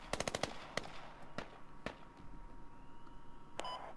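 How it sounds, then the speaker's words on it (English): Gunfire in the military shooter game Squad: a quick burst of sharp shots at the start, then scattered single cracks, one with a beep-like ring, over a low rumble. "Taking sniper fire somewhere."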